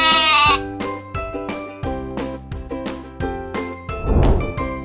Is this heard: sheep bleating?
yes